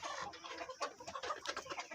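Desi hens on a poultry farm cluck steadily in a dense, overlapping chatter, close and fairly loud, with no talk over them.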